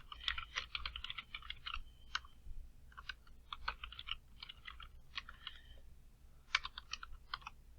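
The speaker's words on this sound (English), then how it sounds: "so I'm going to type a simple sentence here" Someone types a sentence on a computer keyboard, with quiet close-up bursts of rapid key clicks separated by short pauses and no talking.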